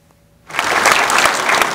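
Audience at a Gwangju city and Hyundai Motor investment agreement signing ceremony bursting into applause after a brief quiet moment, the clapping steady and close for over a second.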